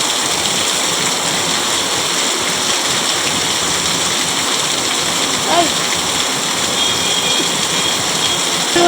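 Heavy rain pours down outdoors in Mumbai as a steady, dense hiss that fills the whole clip, loud and continuous with no break.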